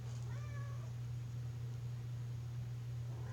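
A cat gives a single short meow indoors, faint against a steady low electrical hum that runs the whole time.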